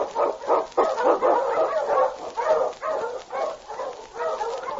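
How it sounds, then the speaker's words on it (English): Huskies bark and yip as sled dogs in an old-time radio drama set in the Yukon, giving a dense, steady chorus of overlapping barks and whimpers close by. "On your huskies!"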